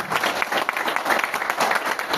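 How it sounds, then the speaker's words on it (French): Loud, sustained applause and clapping fill a hall at the general assembly of the Cameroon sports journalists' association, a dense steady roar of many hands with no pauses. "Tous ensemble, on va applaudir très fort pour David Eyenge"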